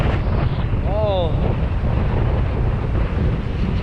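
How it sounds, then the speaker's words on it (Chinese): A gale-force seaside wind roars and buffets the microphone in a loud, constant rush, while a brief voice-like sound rises and falls partway through. "这个风估计有9级以上的大阵风，好大了"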